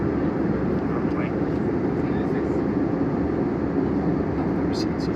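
An airplane on a flight path near Riyadh passes low overhead as a steady, loud roar that holds throughout, with someone talking briefly over it.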